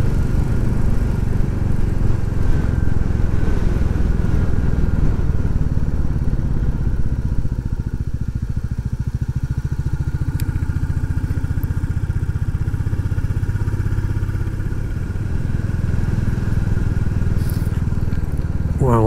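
Royal Enfield Classic 350 motorcycle engine running steadily on a ride through the Peak District, a loud, continuous low thrum with rough mechanical texture and wind rush, with a voice speaking over it.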